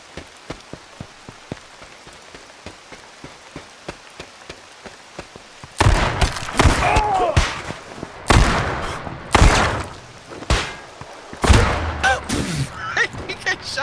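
Gunfire in the H1Z1 video game, with a run of small ticking clicks first, then several sharp, loud shots and bursts mixed with voices talking and shouting.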